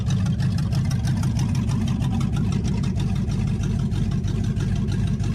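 A 1966 Dodge Dart GT with a 273 V8 and no exhaust built yet runs steadily, its loud, rumbling engine note holding close and even throughout with no talking.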